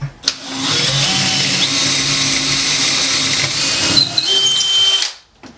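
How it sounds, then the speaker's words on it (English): A power drill with a brad point bit whines steadily for about five seconds while boring a small pilot hole in wood, then stops abruptly. "I'm going to pre-drill on this end using a brad point."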